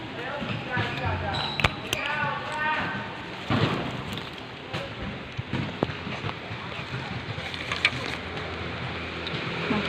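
Rain falling on a walk home, a steady broadband patter of drops on surfaces close by, with scattered louder taps and movement noise, and faint voices in the background.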